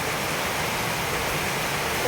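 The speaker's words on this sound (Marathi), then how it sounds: "बघू शकता किती जोरदार पाऊस चालू आहे पाणीसुद्धा आहे किती" Heavy monsoon rain pours down in a dense, loud, unbroken roar of falling water, close and steady from start to finish.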